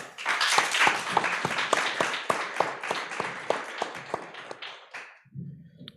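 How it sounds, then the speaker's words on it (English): An audience at the English Theater Berlin applauds author Emily Nemens, sharp distinct claps close by over a dense wash of clapping that swells and then fades out, leaving a brief low murmur at the end. "So please can we have a round of applause for Emily Nemens."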